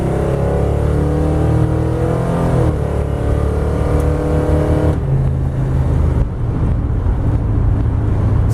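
A Plymouth with a 318 V8, headers and a PTC 9.5 torque converter accelerates hard on rough chip seal. The loud engine drone rises in pitch through the gear, then drops at a shift and pulls again, heard close with tire and road noise.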